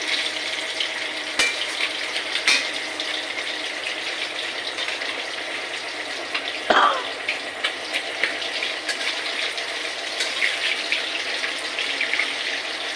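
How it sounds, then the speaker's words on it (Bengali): A fish head frying in a pan in a home kitchen, a continuous hiss and sizzle with a few sharp clinks and clatters of utensils, steady and close with no talk. "মাছের মাথাটা ভাজা হচ্ছে।"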